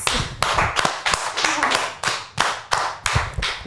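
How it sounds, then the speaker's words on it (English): A group claps in uneven bursts, sharp slaps repeating steadily and fairly close, with no talking over them. "Let's clap everyone"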